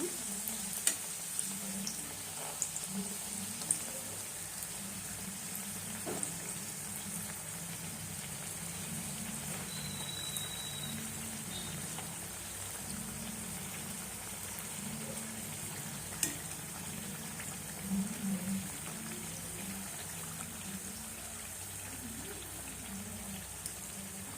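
Badam puri deep frying in hot oil over medium heat, a quiet steady bubbling sizzle with occasional small clinks and scrapes, faint and continuous throughout.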